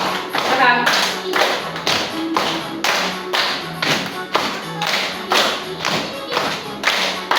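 A group clapping hands in unison during a school positive-culture activity, sharp synchronized claps in a regular repeating rhythm with a count-in, fairly loud, with a voice calling out between beats.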